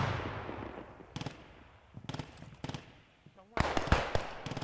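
Pistol fire during a mini scrim drill at Arnhem: short clusters of sharp, cracking shots in quick succession, fairly faint and spaced apart, with people talking in between.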